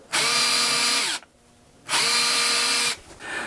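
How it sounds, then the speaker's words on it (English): A power drill whines loudly in two long bursts of about a second each, drilling holes to mount casters on a workbench, separated by a short quiet pause, with a third burst starting at the end. "Then all there is to do is to drill out the holes."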